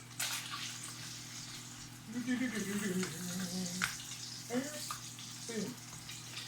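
Food sizzling and frying in a pan right after being flipped to crisp and turn golden brown, a steady hiss with faint scraping and clinks, with a low steady hum underneath.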